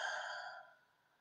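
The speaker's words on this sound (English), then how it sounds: "taking a breath." A person takes a slow, audible breath during a guided morning prayer and meditation session, a soft breathy exhale that fades over about a second.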